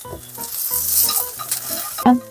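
Sliced onions stir-fried in a hot pan give a bright, loud sizzle broken by close scraping stirs, with one sharp clatter of utensil on pan near the end.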